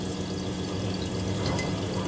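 Miele W Classic WDA210WPM EcoComfort washing machine filling with water for its rinse, a steady rushing pour of water into the drum, moderately loud and continuous, with no voices.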